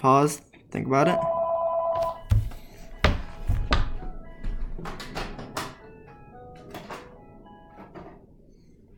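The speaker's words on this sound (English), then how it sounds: "Sorry about that phone call." A telephone rings with a bright electronic tone at the start, then breaks off. A few hard thumps and clatters follow while someone speaks in a quiet room.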